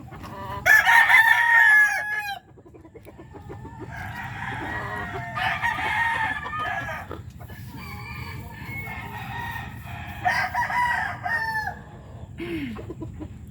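Backyard chickens and roosters at feeding time, with loud rooster crowing up front, then overlapping clucks and calls from several birds close by, with a little faint talk underneath.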